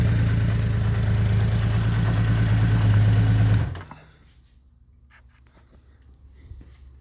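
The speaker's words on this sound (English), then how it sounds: "That's a Delcovic exhaust. It's got a little throatier than the stock one." A 1979 Honda CBX motorcycle with an aftermarket Delkevic exhaust idles with a deep, throaty rumble, steady and close for about three and a half seconds, then cuts off to near silence.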